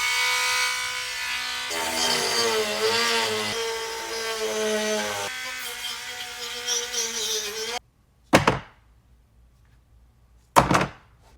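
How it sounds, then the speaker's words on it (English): Plastic behind the grille of a fifth-generation Toyota 4Runner is cut with a whining rotary tool, a buzzing, pitch-shifting tone lasting several seconds, then silence broken by two short harsh bursts. "I need to cut some plastic behind it."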